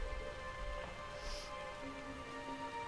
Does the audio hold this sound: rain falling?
yes